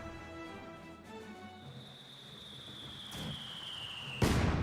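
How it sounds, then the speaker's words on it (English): A mortar shell explodes in the WWII strategy game Company of Heroes 2, a sharp loud burst near the end on top of a steady bed of battle ambience and distant rumbling. "Another good mortar hit there."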